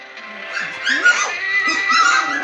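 A young puppy hollers loudly, high whiny yelps and whimpers rising and falling over a couple of seconds, close by.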